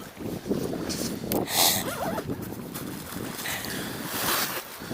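Gusty headwind buffets the microphone over a steady rushing background while fishing at Osokorky in Kyiv, with brief louder blasts rising and falling.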